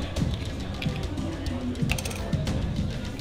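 A small metal cash-vault keychain is unscrewed by hand, giving soft, close ratcheting clicks and scraping thread sounds in an irregular rhythm over a faint background hum.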